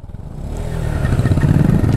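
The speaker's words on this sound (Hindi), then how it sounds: "तू कैसे एग्जॉस्ट रेस पे रेस दे रहा है" A motorcycle's exhaust revs repeatedly on a snowy, icy mountain road near Joshimath and Auli, a steady close engine roar that swells and pulses without speech.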